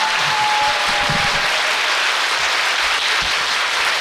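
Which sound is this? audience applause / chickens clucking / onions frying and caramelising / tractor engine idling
audience applause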